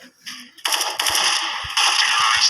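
A machine gun in a video game fires in rapid sustained bursts, loud and close, starting after a short quieter lead-in and growing denser toward the end.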